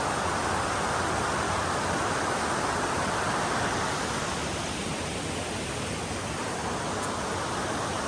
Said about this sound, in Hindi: पानी की आवाज़ इतनी मज़ेदार होती है